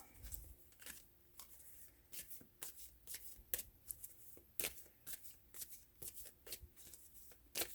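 A deck of tarot cards being shuffled by hand during a reading, with repeated crisp riffling and flicking bursts in an uneven rhythm, close and alone.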